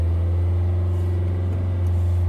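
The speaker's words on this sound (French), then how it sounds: "On accélère un peu pour se donner de la stabilité." Citroën C4 Picasso 1.6 HDi 110 diesel engine, with a suspected injector seal fault, holds a steady low hum close by with a slight rise in revs and no voices.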